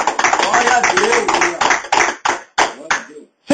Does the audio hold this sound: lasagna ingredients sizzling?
no